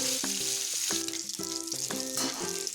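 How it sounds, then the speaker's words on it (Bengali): Cut pona fish pieces fry in a pan with a continuous, bright sizzle, while tonal music with rhythmic notes plays underneath. "মাছের পিসগুলো অপরগুলোকেও পাঁচ মিনিট ধরে লাল লাল করে ভাজা করে নেব"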